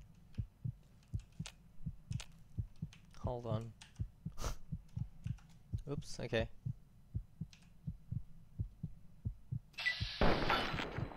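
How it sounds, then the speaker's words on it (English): The player character's heartbeat thumps in Fallout 3: a steady, low double-pulse beat repeats throughout with clicks and game effects around it. A person talks briefly and laughs over it, and a burst of noise comes near the end. "Uh oh, I can hear my heartbeat."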